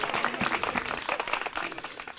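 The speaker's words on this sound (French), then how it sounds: "Sous vos applaudissements," A class of CM2 pupils applauding during a classroom quiz, dense continuous clapping from a small group, fairly close and steady for a couple of seconds.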